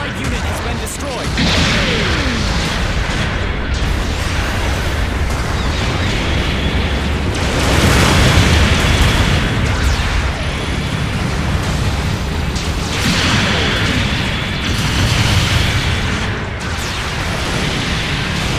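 Repeated explosions of mobile suits being destroyed in Gundam Battle Operation 2 boom and burst loudly in a dense, continuous battle din, with swells of blasts and game voices spoken over them.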